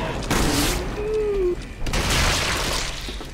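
Explosion in the video game Resident Evil 6: two loud booming bursts with a crackling, debris-like tail, the second following a short gap, heard over in-game effects.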